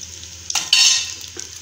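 Mustard seeds, fenugreek and curry leaves crackle and sizzle in hot oil for a tamarind curry with cowpeas, a sharp burst of frying as the leaves go in, then a settling hiss.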